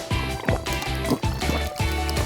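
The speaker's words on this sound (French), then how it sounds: "Et maintenant, elle verse le soda." Soda glugging out of an upturned bottle with its bottom opened, a steady liquid pour broken by rhythmic gurgling pulses roughly every half second, close and loud.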